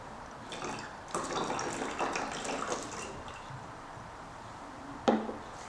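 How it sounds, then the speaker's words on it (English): Water is poured into a plastic bottle, a steady splashing pour for a few seconds that tapers off, followed by a short sharp clunk near the end. "Next I am going to fill the bottle with water."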